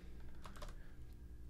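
Numbers typed on a computer keyboard, a short quick burst of several soft, close key clicks over a faint steady hum.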